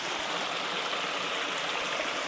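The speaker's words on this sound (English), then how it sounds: "next to this beautiful little creek or whatever you want to call it that we've got here" A small creek at a campsite flows in a continuous, even rush of water, close and fairly loud with no voices over it.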